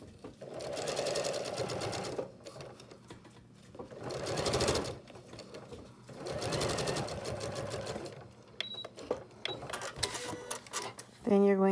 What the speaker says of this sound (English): Then you're going to stitch the front seam of the lining piece as well, 3/8 also.